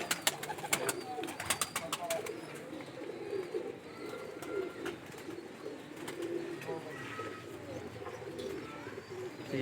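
Pigeon chicks of a quality bloodline cooing softly and repeatedly, close by, with sharp clicks and handling sounds near the start.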